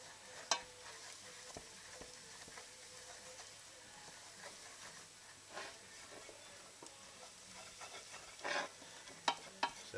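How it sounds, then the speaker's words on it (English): Soft scraping of a spoon or whisk stirring through onions in a pan for a lamb hotpot, set against a low sizzle with a few sharper clinks, quiet and close with no talking. "just give that a stir in, maybe even a whisk in. See how it goes. Stir that into the onions."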